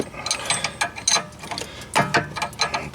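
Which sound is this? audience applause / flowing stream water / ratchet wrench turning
ratchet wrench turning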